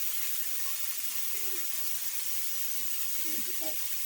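Broccoli and carrots fry in a pan with a steady, soft sizzling hiss throughout, fairly faint and close, with only slight bubbling at times.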